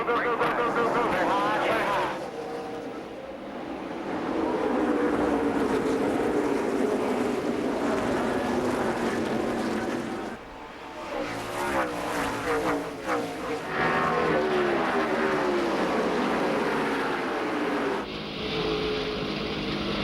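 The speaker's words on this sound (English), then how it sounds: "the field comes off turn 4 for the green flag, and the Kroger 200 is underway." A full field of race cars roars off turn 4 to take the green flag at the 2003 Kroger 200 at IRP, a loud, sustained engine drone that swells and shifts as the pack passes, under excited commentary.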